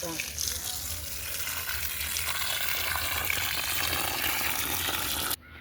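Water pours and splashes onto bean plants in a steady gushing stream, a continuous hiss lasting several seconds before stopping abruptly.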